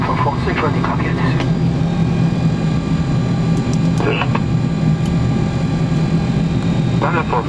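An Iran Air Airbus A300 airliner takes off at an airport, its engines roaring as a steady, loud broadband rumble throughout, with radio or tower talk running faintly underneath.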